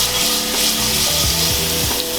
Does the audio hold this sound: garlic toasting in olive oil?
yes